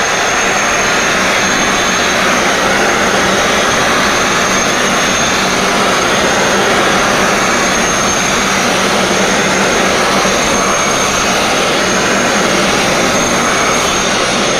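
A sandblaster blasting an autoclave tank, a loud, steady broadband hiss and roar that holds constant for the whole stretch, very close, with no talk.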